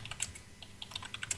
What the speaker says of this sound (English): Someone stop typing.